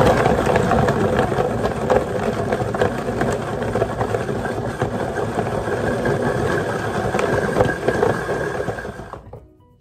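A blender whirring steadily as it blends a mixture with about a cup and a half of water, a continuous loud motor drone with a slight rattle that runs unbroken before cutting off at the end.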